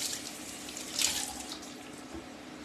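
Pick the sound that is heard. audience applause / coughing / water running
water running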